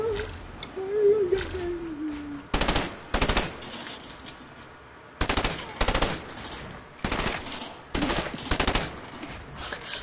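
Submachine gun fire in a video game comes as about six short, sharp automatic bursts spaced a second or so apart, loud and crisp, with faint background game sounds between them.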